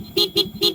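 Three short, loud honks from a Honda XRM 110 motorcycle horn close by, evenly spaced in quick succession with brief pauses between, sounding with the engine off.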